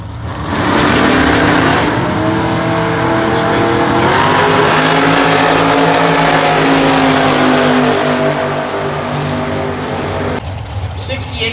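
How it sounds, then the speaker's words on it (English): A 1968 Chevrolet Camaro drag car with a centrifugal supercharger accelerates hard down the strip at a drag racing nationals event, a loud sustained engine roar building and holding for about ten seconds before dropping off near the end. "68 Chevy Camaro down here."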